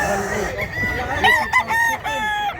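A rooster, a stag about a year old used to mountain terrain, crows several times in harmonic bursts over steady background noise, with people talking nearby.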